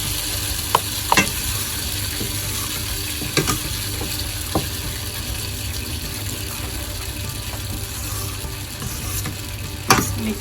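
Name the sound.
stirring and boiling pakora kadhi curry in pan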